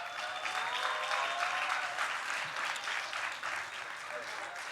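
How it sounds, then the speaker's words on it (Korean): A church congregation applauds during a Sunday service as ten students move up from the youth group, with steady, moderately distant clapping that holds evenly throughout, under a faint voice. "박수로 환영해 주시기 바랍니다"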